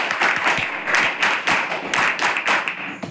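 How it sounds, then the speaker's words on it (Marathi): Loud audience applause at a tribal department IAS mission gathering in Amravati, steady dense clapping from a large crowd with repeated swells of bursts, filling the whole stretch with no talk over it. "एक वेळ जोरदार टाळ्या स्वतः झाली."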